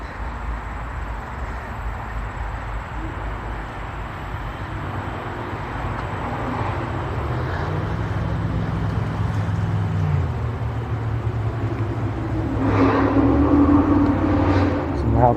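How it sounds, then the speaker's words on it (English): Loud cars pass on a highway right beside a trail, a steady roar of traffic that swells louder toward the end, with a person talking over it. "Some loud cars. We are beside a highway."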